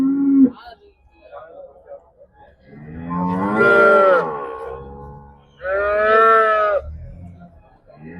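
Dairy cattle moo loudly nearby at the Karungalpalayam cattle market in Erode, India, two long drawn-out lowing calls following a shorter grunt, with faint background noise between them.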